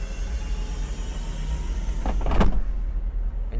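Retractable hardtop roof mechanism of a 1959 Ford Galaxie Skyliner working with the engine running, a steady low motor hum under a brief whirring surge and clunk near the end.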